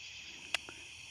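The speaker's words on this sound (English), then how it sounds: "just listening to all the crickets and tree frogs" Crickets and tree frogs at night in the mountains, a steady faint high-pitched chirring drone with one brief sharper chirp standing out, no talk.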